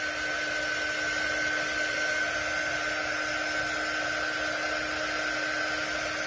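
A hair dryer blows steadily to dry paint on a sunset palm tree painting, a constant whirring hiss with a thin motor whine, running unbroken and fairly close with no talk.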